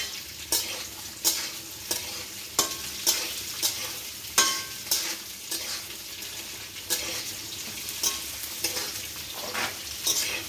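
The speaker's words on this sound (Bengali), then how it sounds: "ভালো করে নাড়তে হবে গাজর দিয়ে।" Carrots being stirred in a hot frying pan for vegetable fried rice: regular scraping strokes of a spatula against the pan, roughly one every half second or so, over a soft steady sizzle, with no talking.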